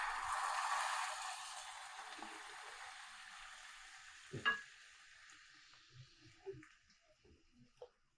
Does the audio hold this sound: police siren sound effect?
no